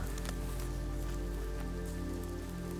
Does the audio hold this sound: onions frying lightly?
no